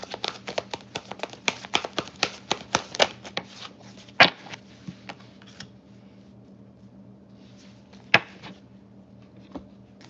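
A deck of cards is shuffled for a reading, giving a rapid run of crisp riffling snaps up close that slows into a few scattered taps and flicks, with no voices.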